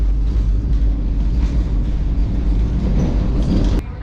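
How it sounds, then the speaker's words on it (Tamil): Inside a Vande Bharat express pulling away from the Dindigul halt, a loud, steady rumble of wheels and carriage noise fills the cabin, ending with a sharp click near the end. "டோர் க்ளோஸ் ஆகிடுச்சு ட்ரெயின் மூவ் ஆகிடுச்சு"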